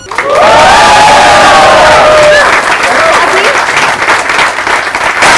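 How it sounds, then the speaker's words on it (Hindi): A live audience at a Bollywood star interview at a café in Bandra breaks into loud, sustained applause and cheering, with whoops and shouts rising over the clapping before it settles into a steady roar. "और साथ ही हमारी यंग ऑडियंस के लिए भी जोरदार तालियां"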